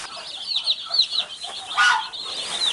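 Young meat chickens and geese in their quarters keep up close, overlapping clucks and chirping calls throughout, with a louder flurry of bird noise toward the end.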